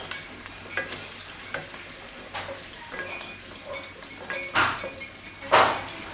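Meat is sautéed with spices in a pan, giving soft sizzling with scattered scraping and stirring clatters that grow louder toward the end, alone without talk.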